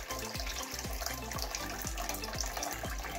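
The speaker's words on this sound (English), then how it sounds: "the water is a little brown coming out now, because we've stirred up the stuff on the bottom" Water heater tank being flushed, water running out steadily as it drains, with a string of low bubbling gurgles and spurts recurring about every half second under continuous splashing.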